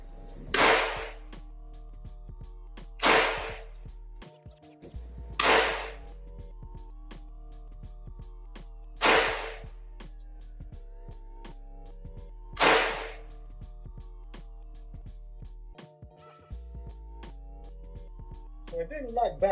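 Five sharp, loud gunshots from a factory-new Glock 19C pistol, fired one at a time at roughly even intervals of about three to four seconds, with short pauses between and some low background noise.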